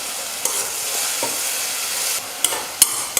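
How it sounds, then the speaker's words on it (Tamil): Onions sauté in hot oil for a tamarind curry base, crackling in an even, close sizzle, with several sharp spoon taps and scrapes against the pan near the end. "ஒரு 2 நிமிஷம் வெங்காயம் வந்து எண்ணெயில் நல்லா வதங்கணும்."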